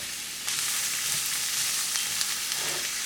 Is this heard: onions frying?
yes